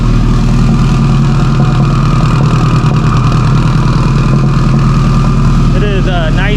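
A stock Subaru STI engine idling on a dyno in a cold shop, a loud, steady rumbling drone that runs continuously with a few faint higher tones near the end.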